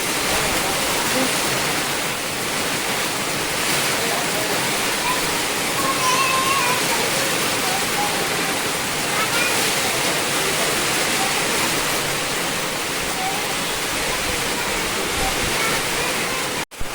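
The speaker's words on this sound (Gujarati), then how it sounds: "વરસાદ ચાલુ થઈ ગયો છે" Steady, dense rushing hiss of heavy rain pouring down without a break, loud and close, with no voices.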